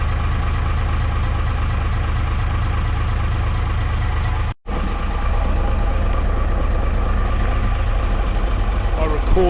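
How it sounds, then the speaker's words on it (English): An old boat motor idles steadily at about 400 RPM, a continuous low rumbling drone that carries on loudly with a brief dropout partway through. "I recall the motor tend to idle at around 400 RPM."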